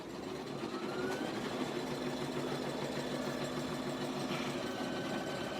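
An embroidery machine stitches red baseball stitches onto an appliqué, a rapid, even mechanical whirr and needle patter running steadily and close at moderate loudness, with no voices.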